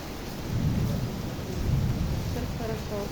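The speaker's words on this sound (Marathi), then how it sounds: "तुम्हाला आवाज येतोय का पावसाचा आलेला?" Steady rain falls in Nashik, a dense, even hiss of drops with low rumbling swells that rise and fall throughout, fairly close and unbroken.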